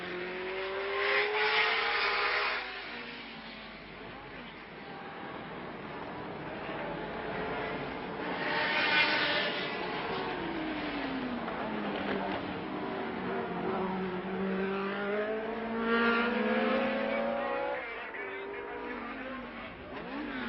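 A 1970 Formula One race car at the French Grand Prix, its engine droning and wailing with rising and falling pitch as it laps the circuit, heard through a thin, muffled broadcast recording with commentary running throughout.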